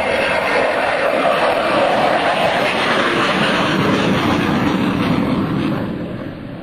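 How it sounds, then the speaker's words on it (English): An F/A-18C Hornet jet at the 2005 NAS Oceana airshow roars loudly on its takeoff roll, a broad sustained jet rumble that fades slightly at the end, with an announcer talking over it. "On the roll, ladies and gentlemen, and airborne. Take a look at the A-18 Hornet."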